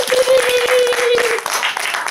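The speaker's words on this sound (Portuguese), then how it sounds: "vamos então agradecer mais uma vez com uma salva de palmas." Applause from a small group of visitors at a textile industry museum, dense and steady for about a second and a half, then thinning out, with a sustained tone running underneath.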